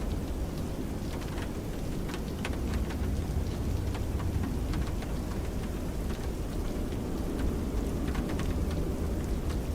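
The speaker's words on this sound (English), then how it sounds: "Sound like we're getting rained on in the sim." Steady rain heard in Microsoft Flight Simulator 2024 during a flight from Klamath Falls to Coeur d'Alene, a constant dense patter on the aircraft with scattered sharper drop ticks and a low rumble underneath, continuing without a break.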